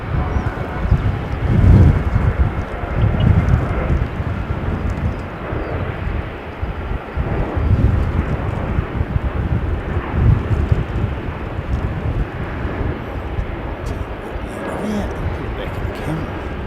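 An ATR turboprop airliner on the Christchurch to Queenstown route drones past outdoors, a loud low rumble rising and falling with gusts of wind buffeting the microphone throughout.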